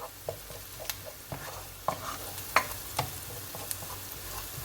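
Onions sautéing in a pan with a soft steady sizzle, broken by scattered clicks and scrapes of a utensil stirring them, fairly close and with no talking.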